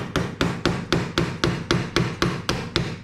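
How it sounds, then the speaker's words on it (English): A hammer taps the plunger of a Honda S2000 clutch delay valve in a steady, even rhythm, about a dozen sharp metal strikes close by with no talking. "Going to gently hit it with a hammer."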